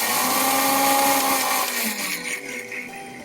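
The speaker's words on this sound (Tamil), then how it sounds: "இந்த அரிசி பைத்தம்பருப்பு ரெண்டுத்தையும் ரவை போல நம்ம மிக்சியில போட்டு பொடிச்சு எடுத்துக்கணும்" A kitchen mixer grinder whirs loudly, grinding roasted rice and moong dal into a coarse rava-like powder; the motor drone stays steady for about two seconds, then slows and winds down.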